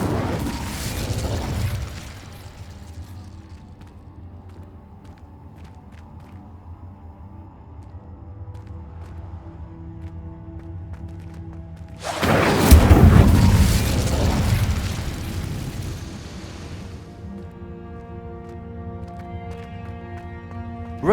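A fiery spell burst rings out in a Hogwarts Legacy game scene, with a short whooshing blast near the start and a louder roaring flare mid-clip, over a low ambient hum.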